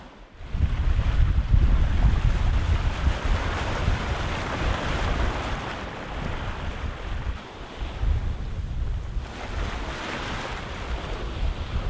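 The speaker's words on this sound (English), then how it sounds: "the wind has picked up." Strong, steady wind of up to 25 knots roaring over open sea with waves washing around a sailing boat, loud and continuous with gusty swells.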